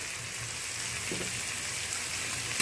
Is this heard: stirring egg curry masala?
yes